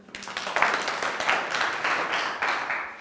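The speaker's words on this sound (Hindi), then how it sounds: "तो एक बार सभी के लिए जोरदार तालियां" A group of workshop participants claps together in a short burst of applause, moderately loud and fairly close, with uneven swells in the clapping over a few seconds.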